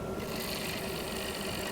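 A carbide rougher cuts green plum wood spinning on a lathe while a live-edge banana bowl is turned, a continuous close grinding scrape with a steady hum beneath.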